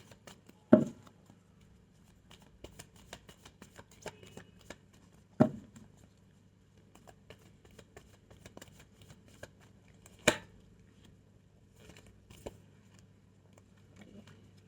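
Tarot cards shuffled and laid out by hand during a love reading, heard as soft papery patter and flicks with a few sharper slaps, fairly quiet, with no talk.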